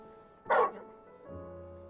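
A dog in the Final Fantasy 16 video game gives a single loud, sharp bark, followed by a quieter low whimpering or humming tone, with no speech.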